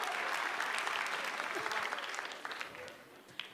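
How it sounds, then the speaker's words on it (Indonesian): Audience applause for comedian Eja Saputra at a stand-up comedy show, a dense, sustained clapping that fills the space before gradually thinning out toward the end. "Tepuk tangan untuk Eja Saputra."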